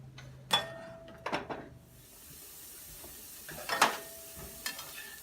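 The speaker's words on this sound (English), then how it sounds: "I want to get my celery and my onions going before I add my mushrooms." Chopped celery and onions sizzle faintly in a pan over medium-high heat, with a soft steady hiss broken by a few sharp stirring scrapes and clatters.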